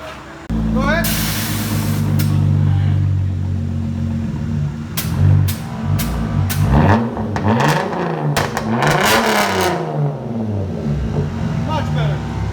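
A 2015 Hyundai Genesis with dual exhaust, X-pipe, straight pipes and muffler delete starts with a loud burst, then idles with a deep rumble and revs several times in quick blips, with people talking nearby.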